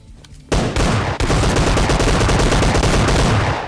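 Gunfire in the mobile shooter PUBG Lite sounds as a loud, close burst of rapid shots after a brief quiet lead-in, with a short break before the shooting resumes.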